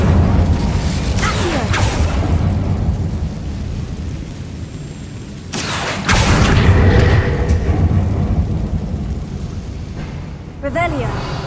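An Incendio fire spell unleashed in Hogwarts Legacy inside a dark mine, deep rumbling blasts and whooshing bursts over game ambience, with a voice speaking nearby.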